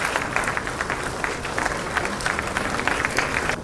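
An audience at a government ceremony handing out appointment letters claps continuously in a dense, steady wash of applause for a few seconds.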